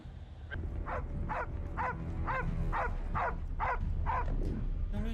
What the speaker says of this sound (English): Somebody shut that fucking dog up.